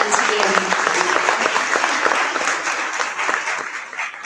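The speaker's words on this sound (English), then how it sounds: "A big round of applause once again." A big round of audience applause at a memorial lecture hall, dense clapping from many hands that stays strong and gradually thins toward the end, with a few faint voices mixed in.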